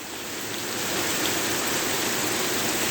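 Steady heavy rain, a dense broadband hiss that swells slightly and holds constant, no voices.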